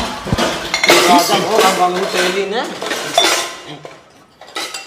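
Metal dishes, plates and utensils clattering and clinking as household items are divided up, a loud burst of jangling metal close by that thins out toward the end.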